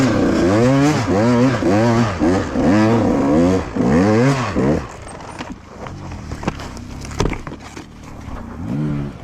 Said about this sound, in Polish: Jestem w wąwozie i zaklinował mi się motocykl.